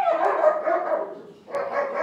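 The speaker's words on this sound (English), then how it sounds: "I know my dog is barking in the background." A single dog barks in the background of a home room in two bursts of quick, muffled woofs with a short pause between, moderately loud and fairly near.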